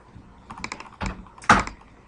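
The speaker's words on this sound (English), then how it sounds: "type in your password" Password being typed on a computer keyboard while setting up an Ubuntu server, a short burst of a few clicking keystrokes ending in two louder, heavier key thunks, close and alone.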